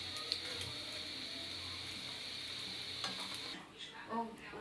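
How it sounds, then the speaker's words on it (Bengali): Beef liver fries in a small pan, a steady close sizzle with stirring scrapes and a few light utensil clicks, the sizzle easing off near the end. "এই যে দেখুন কত সুন্দর হয়ে ভাজা হইতেছে"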